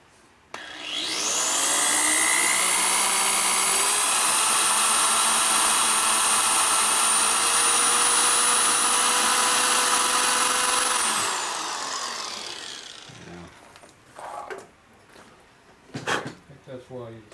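A drill bores a hole in a damaged Harley shovelhead engine case, whining loud and steady for about ten seconds before winding down, followed by scattered clatter from the work.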